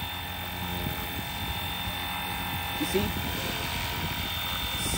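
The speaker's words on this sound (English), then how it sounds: "the only thing I really could hear is the main rotor blade, not even the tail" A FlyWing RC helicopter's main rotor blades spin with a steady, fairly quiet whir held close, running continuously while someone talks over it.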